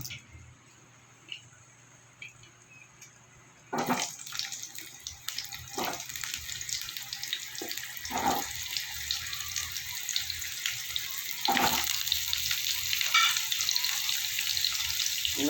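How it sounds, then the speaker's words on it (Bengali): Potatoes frying in hot oil for an egg curry, a steady broadband sizzle starting abruptly when they hit the pan and continuing loud with occasional crackles and pops. "এই তেলে আমি এবার আলুগুলো ভেজে নেব"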